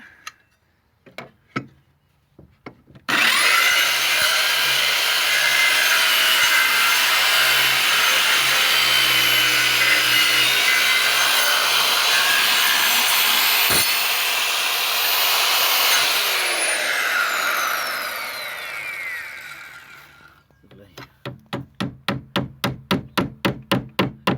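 Hand chiselling wood on a hatch repair: loud sustained scraping and shaving noise for most of the stretch, bracketed by sharp taps and a quick run of rhythmic mallet knocks at the end.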